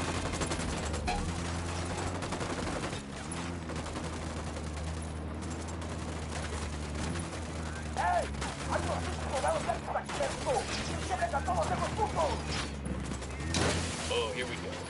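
Automatic gunfire erupts during a firefight in Ghost Recon Wildlands, with rapid bursts and scattered shots over a low sustained backing, growing denser and louder in the second half.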